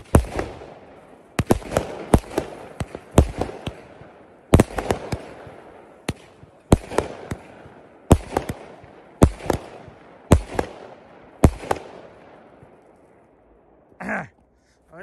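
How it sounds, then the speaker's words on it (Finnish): Fireworks rockets launch one after another at a New Year celebration in Finland, each sharp bang and burst ringing out loud and near in a steady irregular series, with a few faint voices between them and a last softer fizz near the end. "Nyt on ensimmäiset raketit ammuttu."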